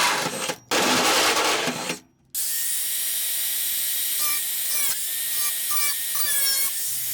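Power drill boring pilot holes and corner holes in a Volkswagen Beetle floor panel, a loud steady whine broken by brief pauses, with the pitch rising and falling as the bit bites through the sheet metal.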